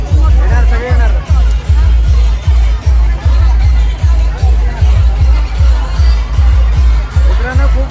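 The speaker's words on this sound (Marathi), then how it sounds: "मित्रांनो खूप गर्दी आहे" A large crowd gathers at a World Tribal Day event in Titwala, Mumbai, with dense babble from many voices over a steady, pounding low beat that repeats throughout.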